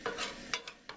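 A spatula stirs Appalachian cathead biscuit dough in a bowl, giving a few quick, soft scraping strokes at close range, faint and irregular, with no talking.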